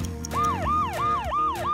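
A police car siren wails in fast repeating up-and-down sweeps, loud and close, cycling about five times in under two seconds.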